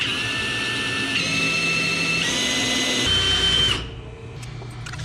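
A power drill bores a hole through the frame of an S10 pickup during fitment of a Dana 44 independent rear suspension, a loud close whine that shifts pitch in steps, then cuts off near the end, leaving faint shop noise.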